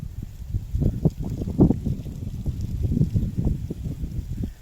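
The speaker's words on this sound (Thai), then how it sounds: "ลมแรงมาก ลมแรง" Strong wind gusting outdoors in Thailand, a loud, continuous low rumble of buffeting across the microphone with rising and falling surges, heard alone without speech.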